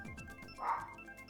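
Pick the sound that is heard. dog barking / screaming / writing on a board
dog barking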